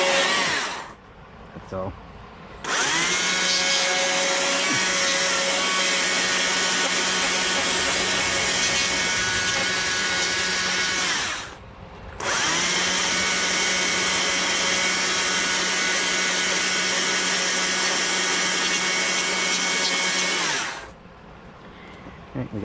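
A chainsaw roars steadily through wood while carving a birdhouse, two long runs of about eight seconds each separated by a brief pause; a few words are spoken at the end.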